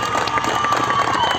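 A crowd at a tournament ceremony applauds and cheers continuously, loud and dense throughout with a few shouted voices mixed in.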